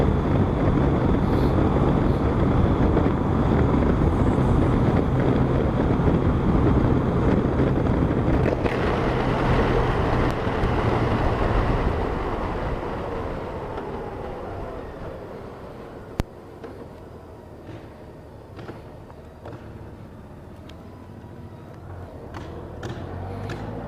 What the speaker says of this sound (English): just listen and look and enjoy your ride on